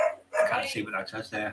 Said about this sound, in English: Hello, that's a dog.